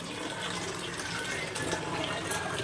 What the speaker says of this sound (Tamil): வாட்டே கரெக்டா ஊத்துறீங்க பாருங்க.